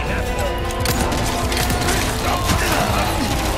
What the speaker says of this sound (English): there's shooting turrets, and it's everywhere